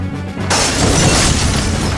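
A loud, sudden crash of glass windows blown out by a tornado erupts and continues as a dense, crackling shatter filling the rest of the clip.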